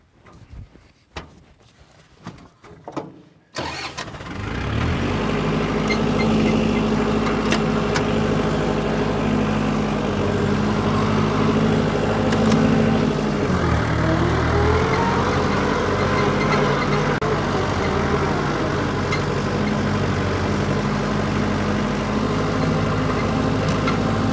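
A tractor engine cranks and catches after a few seconds of quiet handling noises, then settles into a loud, steady idle with a brief dip in pitch partway through, on an off-grid barn house site.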